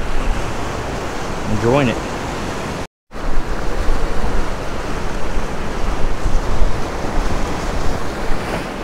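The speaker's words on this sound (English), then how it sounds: "A lot of waves." Ocean waves surging against the rocks of a Galveston jetty, with wind buffeting the microphone, a steady wash of surf noise throughout; a voice speaks briefly over it.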